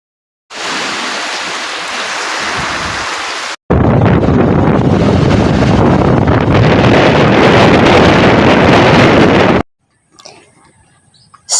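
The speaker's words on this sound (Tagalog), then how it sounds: "Sobrang lakas talaga ng hangin, pati rin ng ulan." Strong wind and driving rain from Typhoon Uwan lash a banana-growing area, a loud continuous roar with heavy microphone buffeting in two long stretches before it suddenly cuts off into near quiet.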